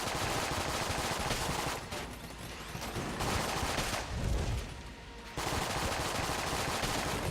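Rapid automatic gunfire in the video game Enter the Gungeon, dense steady volleys with a couple of short dips, loud and near, with no voices.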